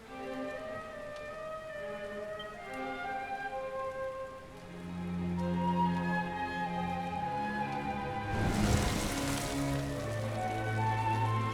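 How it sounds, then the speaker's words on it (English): Steady rain falling in the Dragon Quest XI video game, a constant soft hiss under sustained musical tones, swelling briefly into a louder wash of rain near the end. "Looks like the rain's dying down."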